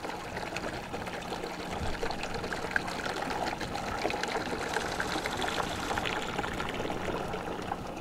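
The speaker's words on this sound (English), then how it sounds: "A water leak." A water leak in the Roblox horror game Midnight Motel, a continuous faint pouring and trickling stream running steadily and alone.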